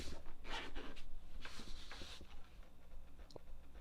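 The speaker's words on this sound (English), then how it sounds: "Unzip it." Close scraping and rustling of a zipper being drawn open on a small GoPro Hero 9 carry bag, in a few short pulls with handling noise after.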